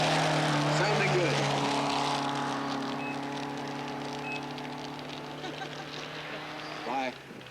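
Rally car from the 1989 Rally of the Tall Pines driving a stage, its engine a steady loud drone with harmonic bands that slowly drop in pitch, plus a brief burst of revving near the end.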